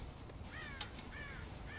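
Crows raid a corn silo in the video game Red Dead Redemption, cawing in several harsh calls spread over a couple of seconds above a steady background hiss.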